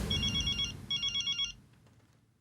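An electronic telephone ringtone sounds indoors in two close bursts of rapid, bright trills, then cuts off and leaves a low background hum.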